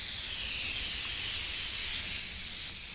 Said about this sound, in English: You have to put some silicone.